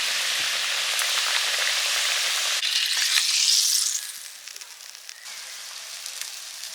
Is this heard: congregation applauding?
no